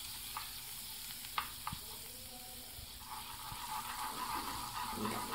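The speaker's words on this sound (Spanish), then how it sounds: "Vamos a esperar a que se derrita nuestra mantequilla" Butter melting over very low heat in a pan for garlic shrimp makes a soft, steady sizzle with faint bubbling, quiet and continuous, broken by a few light clicks of a utensil.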